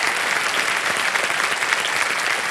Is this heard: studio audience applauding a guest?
yes